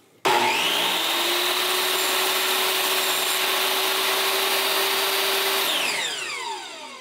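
A table saw crosscuts a board, opening with a sharp start-up and then holding a loud, steady whine with a hum beneath as the blade cuts through, before the motor winds down at the end.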